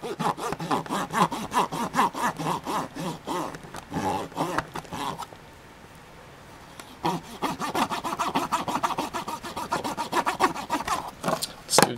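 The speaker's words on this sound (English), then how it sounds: "clean both sides of the connector board until there's no more corrosion coming off" A cotton swab soaked in cleaning solution scrubbing corrosion off both sides of an NES cartridge connector board, a steady run of close, rhythmic scratchy rubbing strokes that pause briefly midway, then resume just as briskly.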